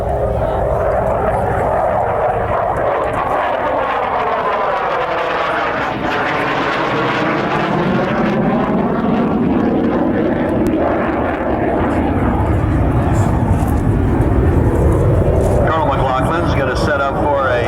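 F-16 jet making a high-speed pass near 0.9 Mach at a military air show at Quonset ANGB in 1997, a loud sustained roar with a sweeping Doppler shift as it flies by, an announcer talking over it.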